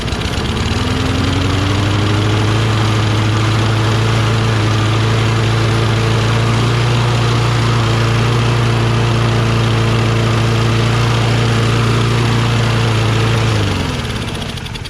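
A Kohler XT675 engine on a Toro Recycler lawn mower runs steadily after starting, a close, loud, even idle with low throbbing harmonics that drops off at the end.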